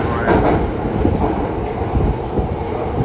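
A London Underground Piccadilly line tube train rumbles along at speed, a loud continuous roar with rattling wheels and carriage clatter heard from inside the car.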